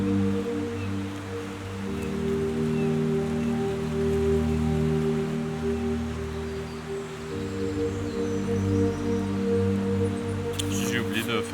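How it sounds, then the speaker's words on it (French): Steady rain falling outdoors on a camping bivouac in the Swiss Alps, a dense continuous hiss with a constant low hum beneath, and a brief higher rustle near the end. "il arrête pas de pleuvoir et je pense pas qu'il va arrêter de pleuvoir aujourd'hui"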